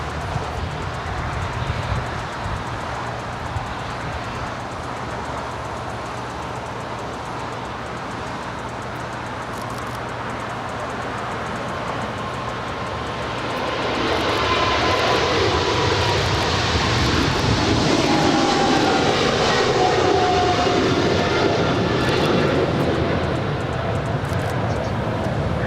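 Heavy airliner departing from Los Angeles airport, a low rumble that swells halfway through into a loud, broad engine roar which holds to the end, with faint radio-style voices early on.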